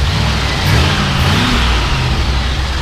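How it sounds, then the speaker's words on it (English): A 1969 Ford F-250 pickup with a 390 V8 on a 2-barrel carburetor, revved gently and held close up, a steady loud rumbling drone that swells slightly and settles without any talk. "Go ahead and rev it up just a little bit."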